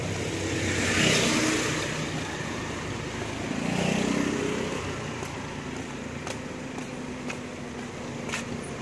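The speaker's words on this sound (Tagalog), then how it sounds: "Ayan yung mga sasakyan. Gumagalaw." Cars driving past on a road in Taiwan at dusk, a steady broad engine and tyre rumble that swells as vehicles pass near and fades between them, with no voices.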